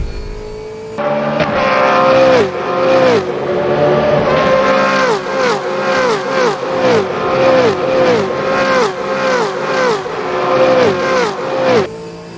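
A race car engine in Assetto Corsa, a Gen 3 Supercars mod, roars loud and close, revving up through a long run of quick gear changes with a rhythmic rise-and-drop pattern.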